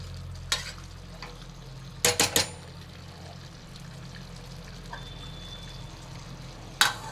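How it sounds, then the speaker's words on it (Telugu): Chopped tomatoes stirred into a simmering Telangana-style chicken curry in a pot, giving a few brief scraping clatters against a steady low background hum. "కట్ చేసి పెట్టుకున్న టమాటోస్ వేసుకొని కలుపుకోవాలి."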